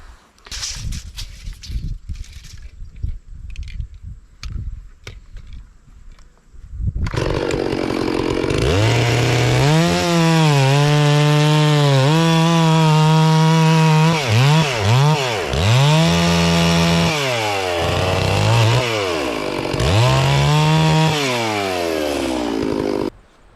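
A chainsaw cuts through Douglas fir logs during storm cleanup, starting after a few seconds of quieter outdoor noise and then roaring loud and close, its engine pitch repeatedly dropping under load and rising again as it bites into the wood.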